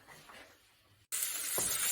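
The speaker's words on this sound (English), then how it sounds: "the onions are frying quite well" A quiet hiss gives way abruptly to a louder, steady sizzle of onions frying in hot oil in a pan, close by.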